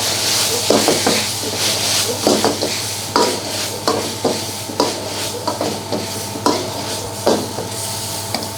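A tomato, spring onion and coriander filling stir-fried in a pan, with a steady sizzle and repeated scraping strokes of the spatula at an even pace, close and fairly loud.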